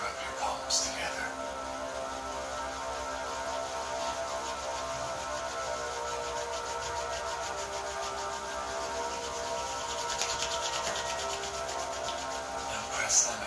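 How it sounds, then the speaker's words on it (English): Palms rub together during a meditation exercise, a continuous soft, close, brushing friction over a faint electrical hum, lasting many seconds. "Begin to rub your palms together."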